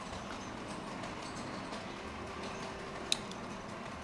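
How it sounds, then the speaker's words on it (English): A personal model railroad train runs steadily in the background, a soft continuous rolling rumble with faint ticking, and one sharp click stands out near the end. "the train in the background is my personal model railroad"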